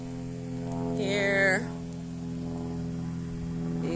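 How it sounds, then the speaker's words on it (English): An airplane passing overhead above a garden gives a steady, low droning hum throughout. A brief voice speaks over it, and there is a short brighter burst of sound near the middle. "Sorry about the noise. There's a plane flying over"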